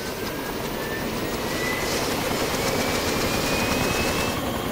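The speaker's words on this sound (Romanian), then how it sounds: "E chestia că elicopterul ăsta când îl învârți, nici nu poți să..." Helicopter flying in the video game DayZ, a steady loud engine drone with rotor chop, constant and close throughout with no speech.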